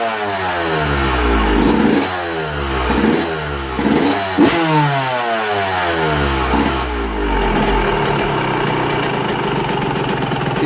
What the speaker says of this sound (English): Motor sounds good and tight.